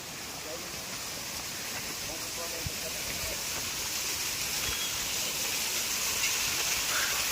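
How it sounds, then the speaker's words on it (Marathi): Steady, distant rushing roar of a waterfall at Kokan Kada cliff on Harishchandragad fort, a continuous broadband wash with faint voices under it. "इकडे आहे हा धबधबा"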